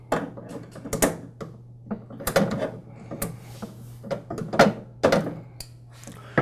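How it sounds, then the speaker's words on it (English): Pliers work fuel line clamps off the fuel filter of outdoor power equipment, making close, sharp metallic clicks and scraping handling noises in irregular bursts, with a faint steady hum underneath. "Now using a pair of pliers, I'll remove the fuel line clamps."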